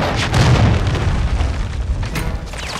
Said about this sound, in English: Friendly cruise missile approaching.